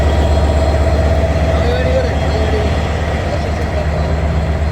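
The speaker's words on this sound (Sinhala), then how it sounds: "ක්ලාස් M11 එන්ජින් එකකින් තමයි මේ යාපනය කංකසන්තුරේ දුම්රිය බලගන්වෙන්නේ." Yal Devi express train to Kankesanthurai, hauled by a Class M11 locomotive, gives a steady, loud, low diesel engine drone with a continuous mechanical hum throughout, and no break in the sound.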